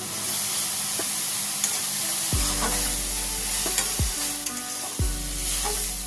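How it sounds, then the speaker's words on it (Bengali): Ginger-garlic paste fries with spices in a pan for cauliflower korma, making a continuous close sizzle and hiss under repeated stirring scrapes, with three low, sweeping thuds along the way. "আবারও ভালো করে সবগুলো নাড়াচাড়া করে ভেজে নেব।"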